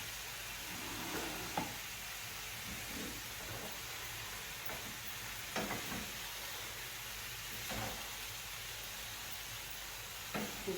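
Beef searing in a pan with crumbled stock and flour, a faint steady sizzle with occasional soft stirring scrapes, heard alone at close range.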